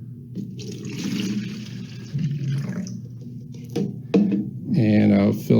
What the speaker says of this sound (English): So I'm going to pour that into my quart container.